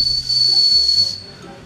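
A homemade stone fishing sinker, a single-hook whistling type, is blown into by mouth, giving a loud, close, breathy hiss with a thin high whistle held for about a second before it fades.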